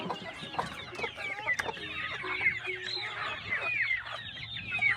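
A flock of hungry chickens, including a rooster, clucks and squawks in a busy, overlapping chorus close by, with scattered sharper calls rising above the steady cackling.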